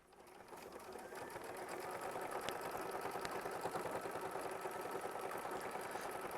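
Sewing machine tack-stitching a quilt block in a steady rapid run that builds up from silence and holds for several seconds, close and even, with no talk.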